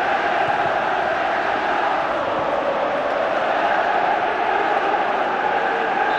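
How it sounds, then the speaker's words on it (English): A large football crowd at Celtic v Falkirk roars in a dense, unbroken wall of chanting and noise, loud and sustained throughout the stadium with no pauses. "the crowd trying to rouse Celtic"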